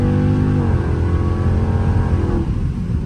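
A Dodge Scat Pack accelerating at partial throttle, around 60 percent, with a loud, steady engine roar and rising harmonics that settle into a continuous rumble.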